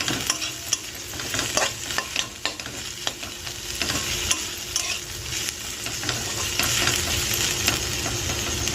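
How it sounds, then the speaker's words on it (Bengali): Yardlong beans and potatoes dusted with chili powder are stirred in a wok, with repeated close spatula scrapes and clatters over a continuous frying sizzle and no talking. "এবার ভালো করে নেড়ে নেব।"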